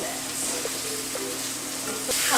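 Rice toasting and sizzling in a heavy pan while fried rice is cooked, a steady close hiss of frying with faint stirring scrapes, growing a little louder near the end.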